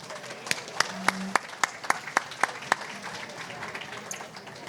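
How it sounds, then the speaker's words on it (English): Sparse applause from a small audience honoring award recipients at the 2024 IAPD Best of the Best Awards Gala. A few crisp, distinct claps stand out over a quiet room murmur before tapering off. "let's give all our award recipients one more round of applause."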